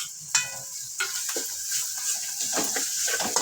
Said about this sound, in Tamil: அது நல்லா வந்து பச்சை மணம் போகிற அளவுக்கு நல்லா வதக்கி விட்டுக்கோங்க.